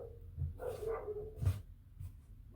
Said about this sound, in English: My dog's absolutely losing their mind behind me.